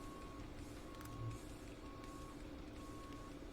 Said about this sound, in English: I hear backup beeping.